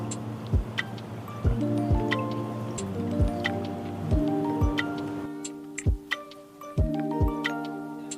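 Cubes and liquid tumble out of a shaker into a glass for an iced black tea soda, a steady run of light clinks and knocks, close and fairly quiet, with glassy ringing between hits.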